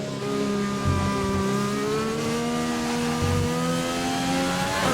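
An F1 race car in a racing video game at the Singapore GP, its engine howling loud and steady as the revs climb and shift through gears, with no talk over it.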